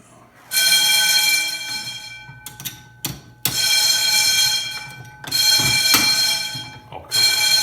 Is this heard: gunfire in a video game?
no